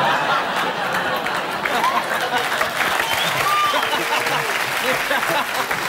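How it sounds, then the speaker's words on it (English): Television studio audience clapping steadily throughout, a dense continuous applause with murmured chatter and a little laughter mixed in. "you guys are clapping"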